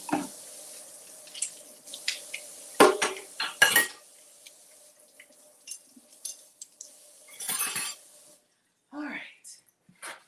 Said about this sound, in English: let me just rinse this out